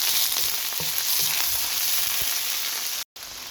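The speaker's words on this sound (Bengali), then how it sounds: "এখন দিচ্ছি আদার পেস্ট তারপর অ্যাড করছি রসুনের পেস্ট খুব ভালো করে ভেজে নিচ্ছি" Chicken pieces fry with ginger and garlic paste in hot oil, giving a loud, continuous sizzle with occasional stirring knocks. The sound cuts out abruptly near the end.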